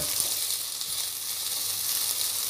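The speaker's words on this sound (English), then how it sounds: "The chicken will be cooked quickly." Chicken frying in a pan for Filipino pinakbet, a steady soft sizzle and hiss that holds evenly throughout, close but quiet, with no talk over it.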